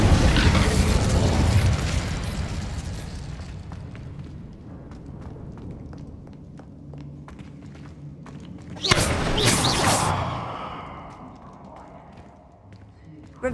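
In Hogwarts Legacy, the Incendio fire spell bursts out with a loud whooshing blast about midway, following a heavy rumbling thud at the start and light footsteps between, all game sound with no talk.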